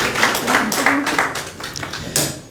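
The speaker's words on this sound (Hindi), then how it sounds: "अब दो शब्द इंजीनियर टीके शर्मा साहब द्वारा जोरदार तालियों के साथ इनका स्वागत।" Applause from an audience at a BJP headquarters gathering, welcoming an engineer as he comes up to speak; brisk, dense clapping that holds steady, then thins slightly toward the end.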